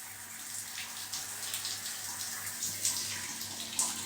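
Water pours steadily from a tap, a constant bright hiss and splash with small surges, close and unbroken throughout.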